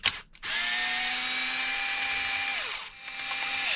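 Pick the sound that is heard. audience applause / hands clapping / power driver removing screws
power driver removing screws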